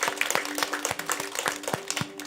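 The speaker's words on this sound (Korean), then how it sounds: "우리 감사와 찬양의 박수로 주 앞에 나아가십시다" A church congregation at a New Year's Eve worship service claps in praise, steady overlapping claps over a low sustained tone, moderately loud throughout without speech.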